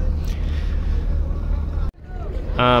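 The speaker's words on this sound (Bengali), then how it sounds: "ব্যাক গিয়ারে যাচ্ছে এই মুহূর্তে কর্ণফুলী 9 লঞ্চটি" The Karnaphuli 9 passenger launch rumbles as its engine shifts into reverse gear, a low droning churn that briefly cuts out and then resumes, ending with a sharp horn-like tonal blast.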